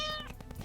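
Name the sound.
cat meowing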